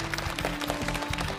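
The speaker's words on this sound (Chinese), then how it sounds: "掌声有请" A studio audience applauds to welcome an orthopedic doctor onto the set of a Chinese TV health program: a short, steady burst of clapping with a faint tonal backing.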